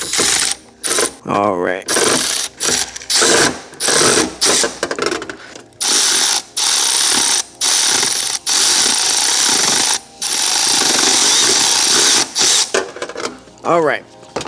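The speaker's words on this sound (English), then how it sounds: "Then I'm gonna put it to my power ratchet here and see what we get." A power ratchet whirs in repeated short bursts while loosening a valve cover bolt on a Mercedes M156 engine, with brief pauses between pulls and a voice speaking briefly close by.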